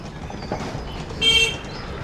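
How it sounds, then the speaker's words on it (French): A short car horn toot sounds once against a steady background hum of traffic and street noise. "J'en peux plus des klaxons."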